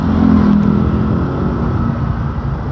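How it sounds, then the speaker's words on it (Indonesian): A KTM RC200 motorcycle is being ridden, its engine holding a loud, steady mid-pitched drone with rushing wind noise close up. No one speaks. "Jadi gua naik motor ini."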